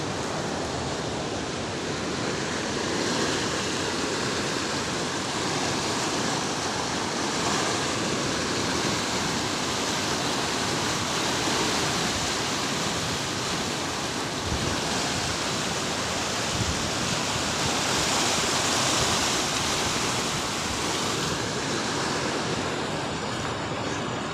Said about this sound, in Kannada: ಚಾನಲ್ನ ನೀರಿನ ರಭಸ ನೋಡಿ ಯಾವ ರೀತಿ ಹೋಗ್ತಾ ಇದೆ